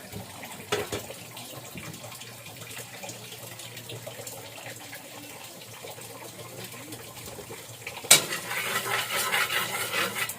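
Quiet kitchen clatter and faint background noise give way to a tap being turned on suddenly. A steady rush of running water continues to the end.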